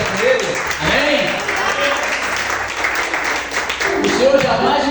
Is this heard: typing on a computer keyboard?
no